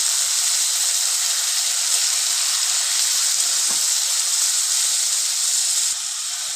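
Ginger garlic paste and spices frying in a hot pan with cut potatoes to follow, a steady loud hissing sizzle that holds evenly throughout and eases slightly at the end, close, with no talking.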